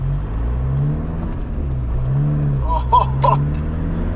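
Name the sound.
car accelerating and shifting gears with long clutch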